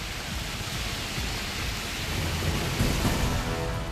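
Heavy monsoon rain pours steadily in Uttarakhand, a dense continuous roar of rainfall with low rumbling thunder underneath, swelling slightly louder toward the end.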